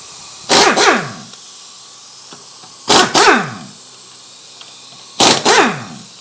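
Pneumatic impact wrench in a workshop loosening car wheel bolts without a jack, firing three loud bursts, each a short double rattle, spaced a couple of seconds apart and close by.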